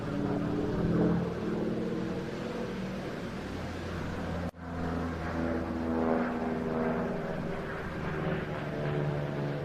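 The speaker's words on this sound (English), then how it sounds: "the aircraft now turning in for a final chance to look at and to listen to the Harvard 4 of the Navy Wings Heritage Flight" A Harvard 4 piston-engined trainer of the Navy Wings Heritage Flight drones steadily overhead at an air display, its propeller engine holding a sustained tonal hum that cuts out briefly midway, then returns without voices.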